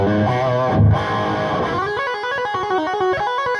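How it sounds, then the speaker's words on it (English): Distorted PRS Modern Eagle V electric guitar plays a chord, then a run of gritty single notes and riffs, loud and up close with no voices. "let's turn it onto a distorted tone and hear what sounds we can get"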